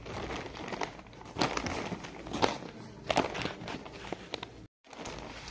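Silk clothes are wrapped in paper, producing close, continuous crinkling and crackling with irregular louder rustles and a brief silent gap near the end.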